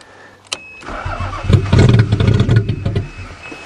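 A 1991 Toyota Camry engine cranks on a winter start attempt after a sharp click, with a loud, steady, rhythmic churning of the starter for about two seconds that then fades without catching.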